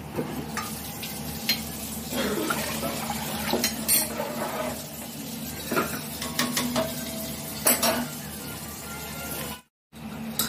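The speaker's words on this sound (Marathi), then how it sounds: "त्यात पाणी टाकलं." Water poured into a pot of cooking dal, a close liquid splash and bubbling sizzle mixed with spoon stirring and clinks of the pot, steady throughout with a brief dropout near the end.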